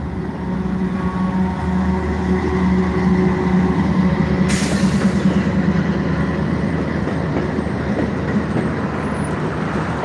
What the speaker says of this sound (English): Here comes that first train.